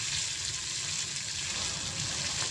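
Prawns cooking in a pan for home-style prawn 65, a steady close sizzle and bubbling hiss, even and uninterrupted.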